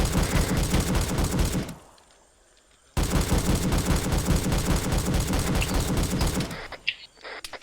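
Sustained rapid gunfire in a Vietnam War shooter, dense machine-gun bursts that cut out briefly and then resume just as loud, ending in scattered shots.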